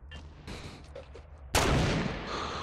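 Gunfire in the video game Fortnite: a burst of shots is followed by a loud, sustained blast that rings on, heard close and alone with no talk.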